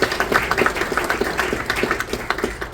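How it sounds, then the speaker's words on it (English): An audience clapping at a Lake Michigan Day event held at the Wisconsin Maritime Museum, a lively round of individual claps ringing out in quick, uneven succession, moderately loud and close, with no speech over it. "let's have a big round of applause for the beautiful Wisconsin Maritime Museum."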